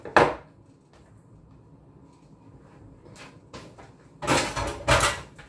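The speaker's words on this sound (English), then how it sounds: "So just chop up onion." A knife chops onion on a board for a squash omelette: one sharp chop at the start, a few faint taps in the middle, then a closer cluster of firm chops near the end, in a quiet kitchen.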